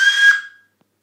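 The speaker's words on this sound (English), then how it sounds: "but you can use it actually as a whistle." A single short, shrill whistle blast blown through a bottle cap, close and loud, then fading out quickly into silence.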